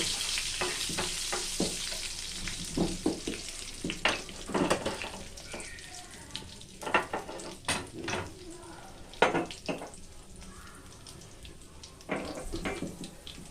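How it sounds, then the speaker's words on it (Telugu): Curry leaves and cumin sizzling in hot oil in a pan, a steady crackling fry with scattered spatters, stirring and clinks of a utensil against the pot, fairly close and moderately loud. "అలానే కరివేపాకు ఇది మంచిగా ఫ్రై కానివ్వండి."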